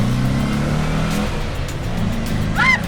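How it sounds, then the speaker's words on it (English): A car engine drones low and steady, then rises with a revving whine near the end, loud and close. "It's a loud car."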